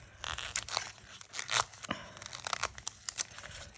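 Paper for a floral card is cut up close by in a quiet room, giving a string of soft crunching snips and crinkles.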